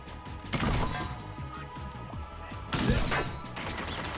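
Two loud booming blasts a couple of seconds apart, each followed by rumbling crashes, like heavy cannon fire from the Captain Cannon character in Plants vs Zombies Garden Warfare 2.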